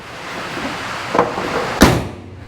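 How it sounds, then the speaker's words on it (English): A car door on a third-generation Camaro swings shut with one firm thump near the end, after a softer earlier knock, heard close up in a quiet garage. "go ahead and close that door for him, Kenneth."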